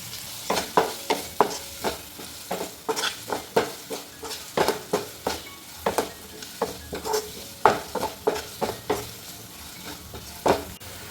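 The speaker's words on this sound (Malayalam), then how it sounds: "ഇതൊന്ന് നന്നായിട്ട് വഴറ്റിയെടുക്കാം കുറച്ച് ഉപ്പിട്ട് കൊടുക്കാം" Onions with curry leaves and a little salt being sautéed in a pan, a continuous soft sizzle under rhythmic, closely repeated spatula scrapes and taps against the pan, near and clear.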